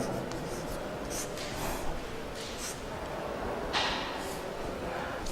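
Chalk or marker writing on a board during a geometry lesson, a steady scratchy stroking sound with a few sharper accents, close and continuous.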